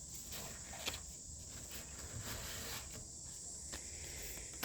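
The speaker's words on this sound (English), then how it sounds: "listen to the bugs buzzing and the wind blowing" Outdoors, bugs buzz in a faint, steady high drone with a light wash of wind. The whole scene is quiet and calm, with a few soft rustles and no talking.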